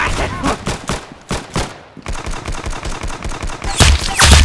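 Rapid gunfire in the Roblox game Arsenal, with close, loud shots fired in bursts and in steady repeated runs, ending in a louder flurry of impacts.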